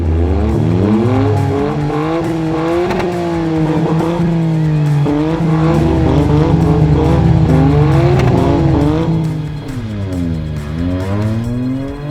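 Toyota GR Corolla and Toyota Yaris engines in a drag race, loud close roaring revs that rise and fall through repeated gear changes, with a tire squeal or skid near the start and no talking.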